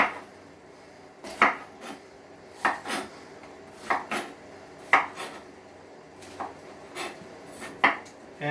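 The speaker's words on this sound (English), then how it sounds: "I'm going to cut the pepper up." A knife chops a bell pepper on a cutting board in a home kitchen, giving about a dozen crisp, close knocks in an uneven rhythm with short pauses between them and no talking.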